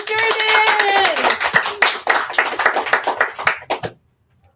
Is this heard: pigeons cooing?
no